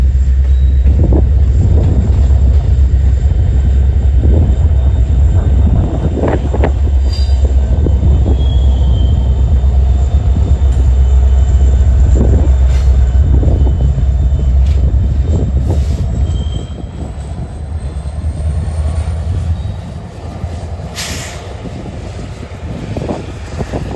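Freight train passing at La Crosse, led by the Norfolk Southern 1070 Wabash Heritage locomotive, a loud steady rumble of rolling cars with intermittent wheel squeals and wind buffeting the microphone, easing slightly in the final seconds.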